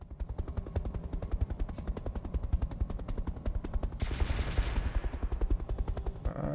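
Rotary cannon fire in a mech combat video game rattles as a continuous fast burst of rapid thudding shots, loud and unbroken, with a brief swell of extra crackling blast noise partway through.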